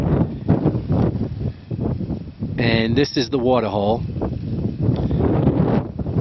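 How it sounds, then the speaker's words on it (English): Strong wind buffeting the microphone outdoors at a hunting blind during antelope season, with low rumbling gusts throughout, while someone speaks briefly over it. "it's pretty windy, so I know the audio won't be too good"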